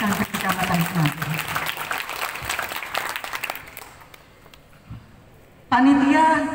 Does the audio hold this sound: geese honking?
no